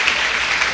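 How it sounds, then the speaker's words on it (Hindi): Students clap for their teachers in a brief burst of dense, even applause from a crowd. "एक बार इन गुरुओं के लिए ताली बजाओ।"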